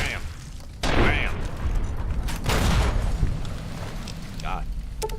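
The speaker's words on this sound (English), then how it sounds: "Fucking explosions all over the place" Gunfire and explosions in the video game Fallout: New Vegas, a few heavy booming blasts and crackling bursts, loud and close, with someone talking over part of the clip.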